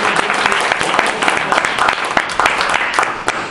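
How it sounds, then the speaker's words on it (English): Audience applause at a Toastmasters meeting, a dense steady clatter of many hands that holds at full strength throughout, loud and close with faint voices mixed in. "Let's give him a round of applause"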